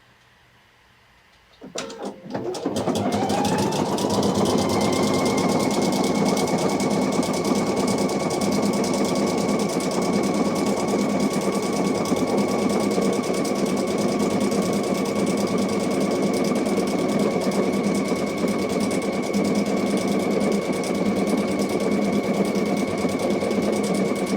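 A PFAFF Icon sewing machine runs a triple stitch, spinning up after a couple of quiet seconds into a loud, steady, unbroken mechanical hum that carries on alone to the end.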